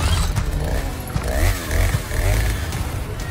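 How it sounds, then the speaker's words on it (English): A Resident Evil 4 chainsaw-shaped game controller gives off a loud, steady mechanical buzz like a small engine, with rising and falling whines and scraping rattles throughout. "I bought the ridiculous chainsaw controller for it"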